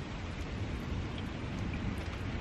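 Steady, heavy rain from a storm moving in over a corn harvest field hisses continuously and evenly, close and broadband, with no voices.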